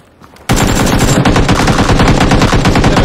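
Sustained automatic gunfire from the battle royale game PLAYERUNKNOWN'S BATTLEGROUNDS (PUBG), a loud, dense burst of rapid shots starting abruptly after a quiet moment and continuing without pause.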